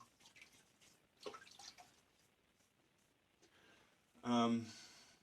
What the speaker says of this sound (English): So I'm going to wet my face and apply this pre-shave.